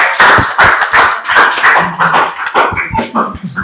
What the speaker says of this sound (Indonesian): Oke, tepuk tangan buat Alpansius.